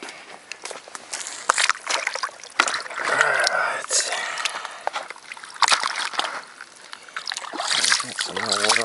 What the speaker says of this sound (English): I'll do a rough panning now